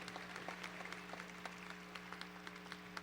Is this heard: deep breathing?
no